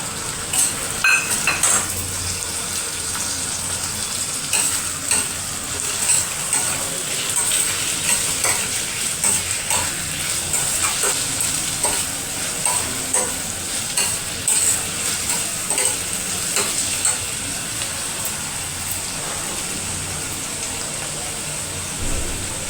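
Sliced onions and tomato sizzle steadily in a hot pan for pomfret curry, with a spoon stirring and scraping against the metal throughout and occasional clinks close by.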